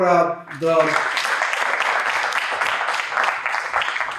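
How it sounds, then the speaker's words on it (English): Audience at a panel discussion breaking into applause right after a voice, the clapping building quickly into a steady, moderately loud wash that carries on for several seconds. "A round of applause for"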